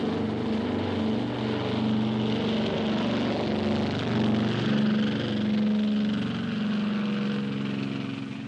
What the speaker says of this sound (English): 16 B-25s took off successfully from the Hornet's deck and headed for Japan.